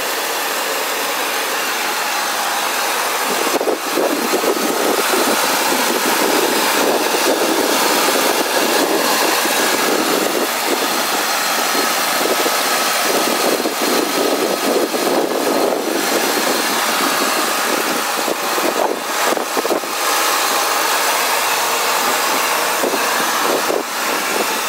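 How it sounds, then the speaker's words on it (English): A 2002 Ford Expedition's 5.4 liter Triton V8 with 113,000 miles idles steadily, a smooth, even, close engine drone that holds throughout with no talking. "Let's take a look at the engine running on this 2002 Ford Expedition."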